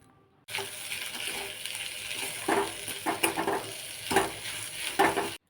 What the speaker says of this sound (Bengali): আলু মাখাটা দিয়ে বেশ কিছুক্ষণ সময় কিন্তু কড়াইতে ভালো করে নেড়ে চেড়ে নিতে হবে